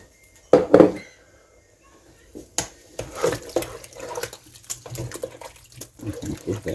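A quart of home-canned tomatoes with their juice poured into a pot for spaghetti sauce, a heavy wet splash and glug followed by liquid sloshing and soft clatter from the jar and pot.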